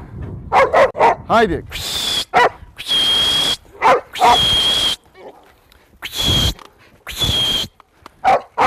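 Australian Shepherd barks repeatedly in sharp bursts during sheep-herding training outdoors, near and loud, with a handler's voice calling commands between the barks.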